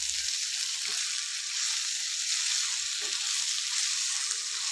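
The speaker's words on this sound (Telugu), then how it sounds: "ఇప్పుడు మన బీనీస్ అయితే మంచిగా ఆయిల్లో ఫ్రై అయింది" Green beans and tomatoes frying in oil for a coconut beans curry give off a steady, even sizzle, close and continuous, broken only by a couple of faint stirring clinks.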